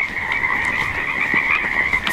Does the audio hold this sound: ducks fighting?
no